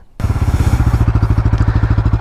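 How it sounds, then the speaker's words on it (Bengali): A Bajaj Pulsar N160 motorcycle, mud-covered, starts up and settles into a loud, close idle with an even, pulsing exhaust thump, no talk over it. "এই হলো এক্সস্ট নোটের সাউন্ড।"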